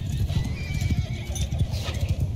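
Horses in the medieval battle game Mount & Blade II: Bannerlord clop along in a busy, uneven hoofbeat rhythm, with whinnies and neighs rising over the trotting and no talking.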